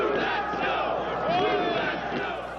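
Football fans at an outdoor Grey Cup game in Ottawa cheer on snow removal equipment, a big crowd roaring and yelling together, swelling in the middle and easing toward the end.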